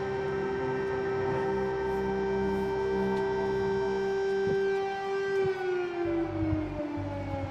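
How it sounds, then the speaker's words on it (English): A loud, sustained air raid siren in central Kyiv, Ukraine, during the Russian invasion wails steadily, a long rising-and-falling tone that slowly drops in pitch near the end, with no one speaking. "there are air raid sirens going off right now here in the heart of Kiev"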